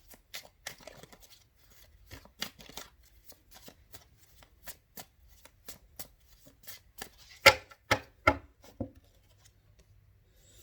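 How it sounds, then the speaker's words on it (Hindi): Tarot cards being shuffled by hand, heard as a run of soft, crisp riffling flicks that grow louder and sharper toward the end, in an otherwise quiet room. "इसको फिर शफल करते हैं।"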